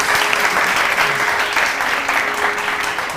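Studio audience applause on a television morning show, loud and sustained clapping from many hands that carries evenly from start to finish.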